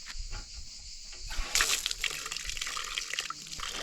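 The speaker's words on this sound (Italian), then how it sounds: "Qui abbiamo anche l'acqua, farla scorrere un po', vediamo se è fresca." Water running from an outdoor tap in the old town of Venosa, Basilicata, a steady splashing stream that swells louder partway through and continues alone without talk.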